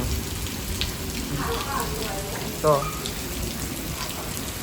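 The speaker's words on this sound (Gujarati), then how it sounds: "વરસાદ જો ધબધબાટી બોલાવે છે વરસાદ બહાર" Heavy rain pours steadily outside during a night storm, a dense continuous hiss of drops on surfaces, with a brief word spoken; any thunder stays faint in the background.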